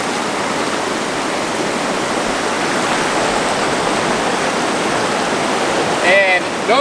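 McKenzie River water running over a shallow run, a loud continuous rushing wash close by, with a brief voice breaking in near the end.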